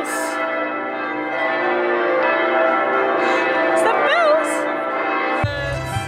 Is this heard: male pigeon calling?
no